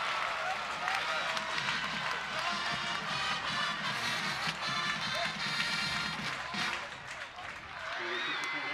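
Big home crowd at a high school football game between Lancaster and Hilliard Davidson cheering and clapping after a quarterback's touchdown run, a loud sustained roar with applause that dips briefly near the end.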